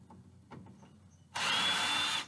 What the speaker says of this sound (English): I'm just taking my screws out.